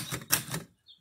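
Typing on an Antares Parva typewriter: a few quick, close mechanical key strikes in a short burst, followed by a faint small ring or click.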